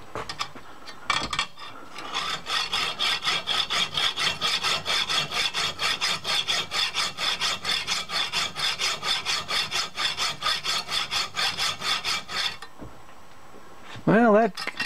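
A coarse-bladed hand saw cuts through a wooden spline with fast, even back-and-forth strokes, loud and close, running for about ten seconds before stopping.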